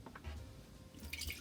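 Wine poured over dried fruit soaking for a Christmas cake, heard as soft close dripping and liquid splashes, quiet and brief with a slightly brighter splash near the end; no voices.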